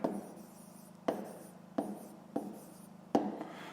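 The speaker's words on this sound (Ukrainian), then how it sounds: "записуємо тоді відповідь." A pen writes a math answer on paper in five separate short strokes, each starting with a soft scratch and trailing off. The sound is close and quiet, with no voices.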